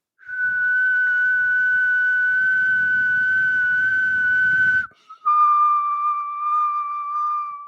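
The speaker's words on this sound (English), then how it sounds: "I can whistle blowing out or sucking in" A person whistles one long steady note close up, pauses briefly, then holds a second, slightly lower note with a breathy edge.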